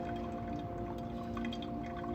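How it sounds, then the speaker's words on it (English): Water poured in a steady, continuous stream over coffee grounds in a V60 pour-over dripper, a soft close trickle with a faint hum beneath and no talking. "And we're gonna do a quick pour at 1 minute"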